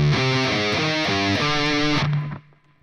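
Distorted electric guitar plays a death metal riff in a lesson, with tight palm-muted chugs moving between power chords before a final power chord rings out briefly and cuts off, loud and alone.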